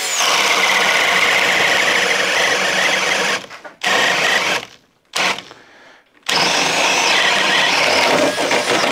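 Makita power drill boring through material during a side-by-side test, a loud high-pitched motor whine that cuts out twice midway before starting up again at full speed.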